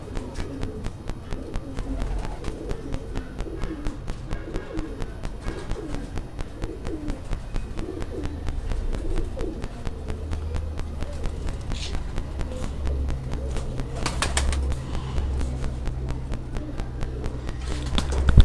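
Pigeons coo softly and repeatedly nearby, a low rolling murmur over faint background noise and occasional shuffling.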